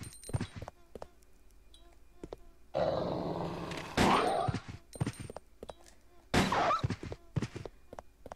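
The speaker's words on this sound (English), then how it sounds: "I think it was just that one dog that was making that noise" A zombie dog growls in the video game Resident Evil Code Veronica X, low rumbling snarls in short bursts with thuds between them, no speech over it.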